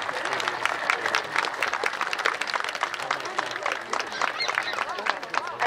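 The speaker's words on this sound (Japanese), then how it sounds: "感謝状を受賞されました方々に盛大な拍手をお願いいたします。" Audience applause fills a Japan Ground Self-Defense Force anniversary ceremony at Shinodayama garrison as award recipients are honored: dense, steady clapping from a large crowd lasting several seconds, with faint voices mixed beneath.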